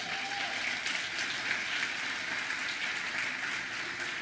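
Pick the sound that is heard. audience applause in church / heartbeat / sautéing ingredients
audience applause in church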